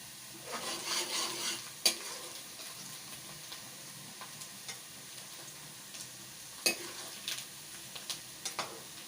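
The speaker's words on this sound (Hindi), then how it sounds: "प्याज ब्राउन हो रहा है, हल्का सा और ब्राउन हो जाएगा" Onions browning in hot oil in a pan for mutton karahi give a soft, steady sizzle with occasional stirring scrapes and a couple of sharper clinks, moderately quiet and without talk.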